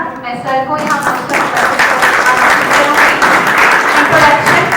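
Loud, sustained audience applause and clapping at a college international conference, a dense crowd of hands continuing throughout.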